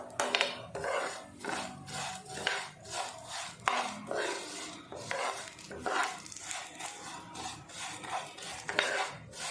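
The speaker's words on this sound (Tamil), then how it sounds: "லோ ஃப்ளேம்லேயே சேமியாவை நெய்யில் வறுத்துட்டுருக்கேன்." Vermicelli roasting in ghee in a pan over a low flame, with a continuous soft scraping and rasping as a spatula stirs it, quiet and steady with irregular strokes.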